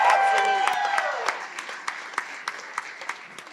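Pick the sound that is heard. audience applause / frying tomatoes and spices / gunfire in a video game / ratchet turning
audience applause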